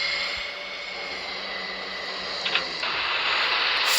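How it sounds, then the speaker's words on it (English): Aircraft engines running up for takeoff in a flight video game, a steady droning whine with a hissing roar that grows louder and brighter toward the end. "Turn on all the engines."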